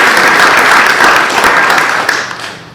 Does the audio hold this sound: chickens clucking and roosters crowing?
no